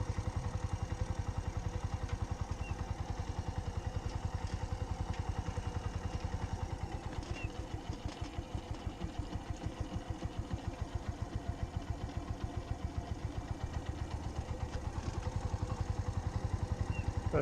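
A motorcycle engine chugs at low revs during a beginner riding lesson, a steady rhythmic thrum that stays close and even throughout, with no speech.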